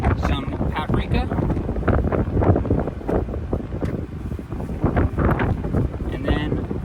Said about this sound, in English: It's very windy all of a sudden.